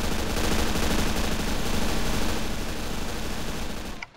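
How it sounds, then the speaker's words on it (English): AI squads in Men of War: Assault Squad 2 trade dense, sustained automatic gunfire, a steady crackling barrage heard at moderate distance that holds for about four seconds before cutting off, with no talk. "Yeah, there you go. They start shooting."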